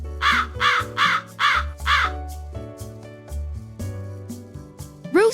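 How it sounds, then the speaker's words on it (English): A hooded crow caws five times in quick succession, harsh and loud up close, over a backing of bouncy children's music. "Hooded crow."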